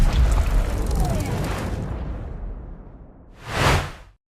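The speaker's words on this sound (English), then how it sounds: "The explosion completely obliterated the tank." A rushing, crackling blast of a missile destroying a tank in the Ukraine-Russia war fades into a lower rumble, followed by a short second burst before the sound cuts off.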